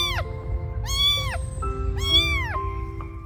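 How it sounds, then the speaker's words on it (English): A lonely kitten alone in a forest gives three clear, high, drawn-out meows spaced about a second apart, close and loud over a low background hum. "they saw a lonely kitten there"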